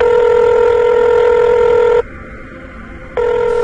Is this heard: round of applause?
no